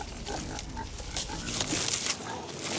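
Pigs grunt and snort in a farm enclosure next to a vineyard, close and fairly loud, with shuffling and livestock noise throughout.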